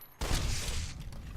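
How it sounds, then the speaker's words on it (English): Gunfire in the video game Fallout: New Vegas, a sudden loud burst that starts sharply and carries on as a dense, continuous rattle of shots and booms heard alone. "Oh, I hear gunfire up there."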